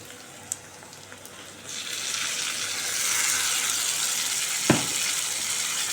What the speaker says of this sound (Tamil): ஊற்றிட்டு நல்லா வதக்கணும்